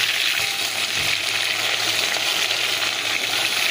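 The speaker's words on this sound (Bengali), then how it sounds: "মাছের মাথা ভাজছি কেমন করে দেখো" A fish head fries in hot, heavily spattering oil, giving a dense, loud, continuous sizzle close to the pan with small pops and no talking.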